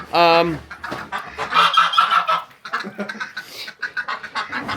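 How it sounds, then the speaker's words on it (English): A loud honk opens the clip, followed by a flurry of geese honking and cackling together in Sweden, busy and close, with no talking. "We have ducks, we have geese"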